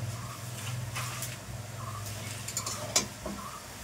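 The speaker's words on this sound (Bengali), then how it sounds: "আর এত বড় কড়াই, তার সাথে দেখো খুন্তিটা ছোট হয়ে গেছে, নাড়তে গেলে অসুবিধা হচ্ছে।" A small spatula stirs biryani meat in a large wok, scraping and clinking against the metal at close range over a steady low hum, with faint sizzling and a few sharper taps.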